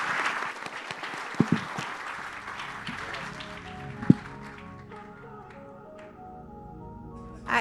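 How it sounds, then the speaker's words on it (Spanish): Applause from a conference audience for panel members at an energy-sector congress, dense clapping that swells then thins out and fades toward the end, heard alone in a hall. "Les pido un gran aplauso para ellos."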